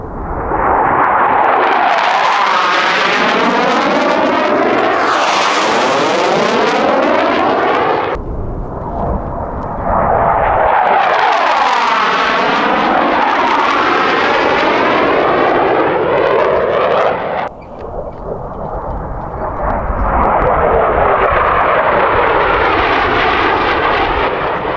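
Military jets flying low-level maneuvers over the Superstition area roar overhead in three long, loud passes, each rising and sweeping in pitch as the aircraft approaches and recedes, with brief drops between passes.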